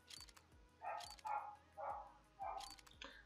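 A neighbour's dog barks in four or five sharp, separate yaps at a steady pace, moderately close and fairly loud, with no talking over it.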